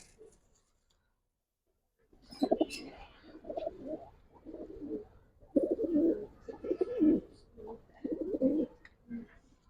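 Giribaz pigeons coo close by in a series of soft, throaty bursts with short pauses between them, after a brief stretch of near silence.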